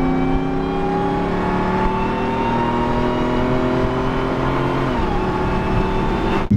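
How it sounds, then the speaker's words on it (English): A Hellcat-swapped, supercharged Jeep Gladiator cruises along, its high supercharger whine riding over a steady engine drone that holds evenly and shifts pitch near the end, loud and close with no talk. "Just even just cruising along, the supercharger whine is"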